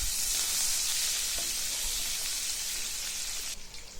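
Chopped onion hits hot oil with two bay leaves in a fish curry pan, giving a loud steady sizzle that holds for a few seconds, then drops off sharply near the end.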